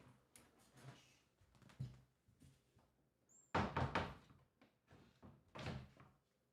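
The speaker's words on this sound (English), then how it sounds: "Hang on, let me shut the door." A door shut indoors: a sharp, loud thunk near the middle, surrounded by quieter bumps, rustles and handling noises, with no talk.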